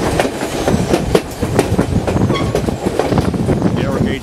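The White Pass & Yukon Route narrow gauge train on its Summit section rumbles along loudly, with rhythmic clickety-clack of wheels over rail joints and occasional metallic squeals, close and continuous.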